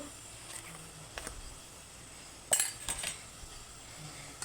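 A metal ladle stirs thick ragi mudde, a finger millet dough, in a pot. Scattered light clinks and scrapes come through, with a short burst of clattering strokes in the middle.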